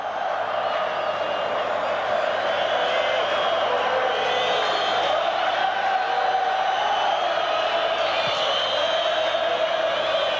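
A packed football crowd in Tel Aviv roaring in support of Israel at a 1986 World Cup qualifier against Australia, a dense continuous wall of distant cheering with a commentator talking over it.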